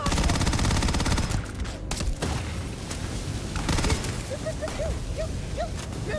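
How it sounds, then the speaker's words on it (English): Rapid volleys of video game gunfire crackle through the clip, dense bursts of shots over a game soundscape with a voice talking intermittently. "Why is she shooting at me?"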